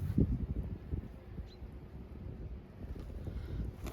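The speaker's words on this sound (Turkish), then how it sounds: "rüzgar var hafiften" Soft, steady wind buffeting a microphone at a beehive, a low rumbling whoosh that gusts slightly throughout without other clear sounds.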